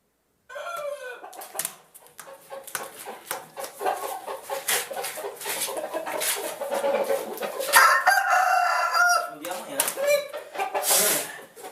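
A rooster confronts its own mirror image, giving repeated crows and agitated clucks over busy noise, with someone talking throughout.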